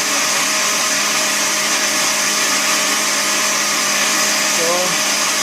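A blender whirring through a vegetable smoothie, a loud, steady, close motor roar that holds for several seconds without pause.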